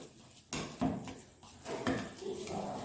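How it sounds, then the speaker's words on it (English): Sugar lace ingredients are stirred together in a bowl, producing quiet, irregular scrapes and clinks of a utensil against the dish. "So all our ingredients are in a bowl. We are going to stir it together."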